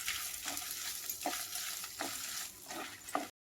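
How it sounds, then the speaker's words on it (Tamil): Ingredients for an anchovy fish curry sauté in oil, with a soft, quiet sizzle and several spoon scrapes stirring the pan at uneven intervals. "இது எல்லாத்தையும் போட்டு நல்லா வதக்கிக்கலாம்"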